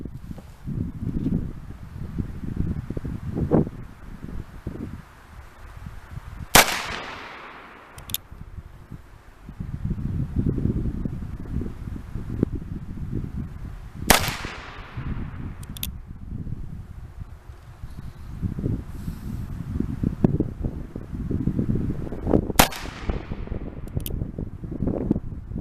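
Three loud, sharp gunshots from an Uberti Single Action Army revolver in .32-20 firing hand loads ring out several seconds apart, each with a decaying tail, over steady outdoor wind and rustling.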